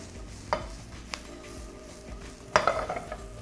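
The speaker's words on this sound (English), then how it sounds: "That goes in the pan. We give that a quick saute." A quick sauté for Filipino adobo, with ingredients stirred in a pan: a low sizzle under a few sharp metallic clinks and scrapes of a utensil against the pan, close and fairly quiet.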